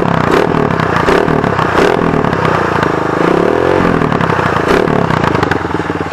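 A motorcycle with its muffler silencer removed revs loudly and harshly up close, the engine roaring and rising in pitch through repeated throttle blips with a rattling, crackling edge throughout.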